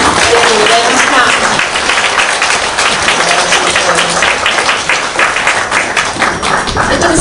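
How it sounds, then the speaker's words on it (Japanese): A lecture audience applauds after a keynote address at a Green Party event, giving steady, dense clapping that fills the room from start to finish, with voices mixed into the crowd noise. "今一度皆様から拍手をよろしくお願いします"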